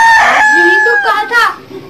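A boy imitates a rooster crowing, giving one loud, close cock-a-doodle-doo call that rises and falls over about two seconds.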